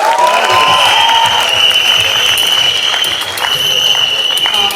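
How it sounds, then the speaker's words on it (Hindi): An audience claps at a Bollywood film song launch event, a steady patter of applause running throughout beneath sustained musical tones. "तालियां बजती रहनी चाहिए."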